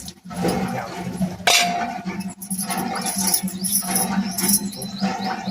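Dishes being washed by hand, with steady clinks and clatters of pots and utensils in running water, close and busy throughout.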